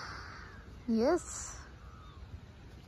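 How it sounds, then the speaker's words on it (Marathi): A single crow caws during an early morning walk, one loud harsh call of about a quarter second standing out over quiet outdoor background, with a brief spoken word nearby. "कावळा बघा मस्त गाणं म्हणतोय"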